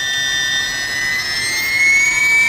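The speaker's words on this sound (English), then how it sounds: "it really does sound like a turbo engine, but it's not, it's just a key machine" The motor of an Xhorse Dolphin XP007 key cutting machine runs at full speed, a steady high-pitched whine like a turbine spooling up, loud and continuous with no talking.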